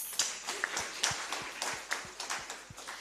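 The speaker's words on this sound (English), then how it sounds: "Please clap hands for yourselves." A conference audience at a women in financial markets event gives scattered, fairly faint applause, separate hand claps landing irregularly over a few seconds.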